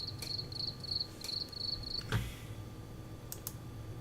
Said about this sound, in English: I'm hearing crickets.